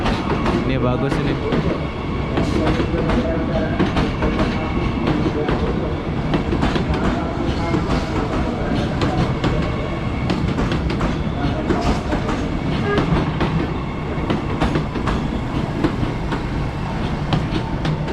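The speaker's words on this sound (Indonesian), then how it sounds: "Oke, kereta apinya udah sampai." A KRL commuter electric train arriving at a Jakarta station, with a loud, continuous close-up rumble and rhythmic wheel clatter throughout and faint voices mixed in beneath.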